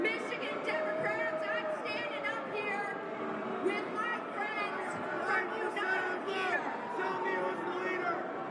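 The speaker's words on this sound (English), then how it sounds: "They're booing the shit out of her." Crowd reacting to a Democratic Party establishment candidate, a dense, loud roar of voices and jeers sustained throughout, with clear speech-like babble over the top.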